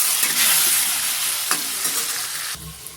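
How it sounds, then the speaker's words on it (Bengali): Potatoes fry with salt and turmeric in a crackling sizzle, broken by a few scraping stirs and a sharp utensil clack partway through. A quieter settling follows near the end. "একটু দিয়ে দেবো নুন আর হলুদ, এবং খুব ভালো করে আমি ভেজে নেবো।"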